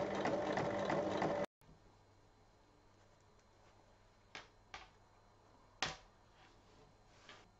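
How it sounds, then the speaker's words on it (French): Sewing machine briefly whirring fast while stitching fabric and its lining together, then a sudden stop followed by a faint hum and a few scattered clicks and taps. "On épingle et on pique sur toute la longueur."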